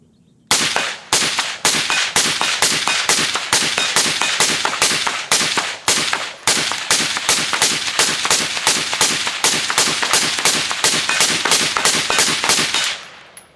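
Rifle fire from an AR-style rifle with a Law Tactical ARIC folding adapter and Sons of Liberty barrel, a long string of sharp, evenly spaced loud shots fired steadily with brief pauses, close to the microphone.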